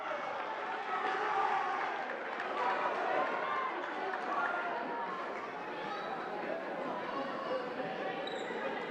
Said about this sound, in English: the crowd here at Phillipsburg not too happy about that one